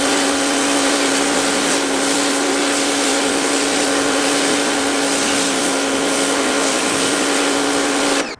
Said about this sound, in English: to finish off I'll use a Vario nozzle and I'll set that to 60 degrees